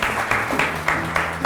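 Studio audience applause on a Macedonian talk show, a dense steady patter of clapping with rhythmic swells roughly every quarter second, mid-distance and moderately loud.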